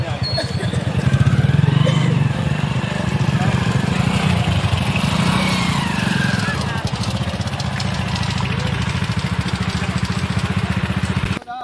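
A motorcycle engine running steadily nearby on a rural path beside fields, a loud, continuous buzzing drone holding for several seconds before cutting off, with voices talking over it.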